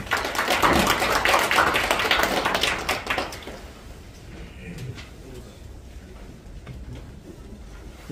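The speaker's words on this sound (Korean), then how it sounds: "큰 박수로 환영해 주시기 바랍니다" An audience at a district education policy forum gives loud applause to welcome a council chair, dense clapping for about three seconds that then fades into quieter room noise and scattered taps.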